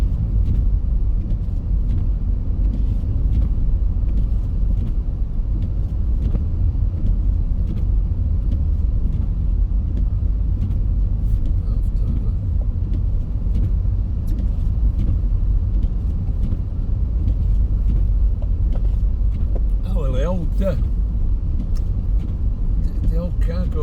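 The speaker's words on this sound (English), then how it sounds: "The old car goes well in reverse as well as forwards." An old car drives along a snow-covered road on a Sunday morning toward Leeds, giving a steady, close, low engine and road rumble with faint rattles that continues for the whole stretch.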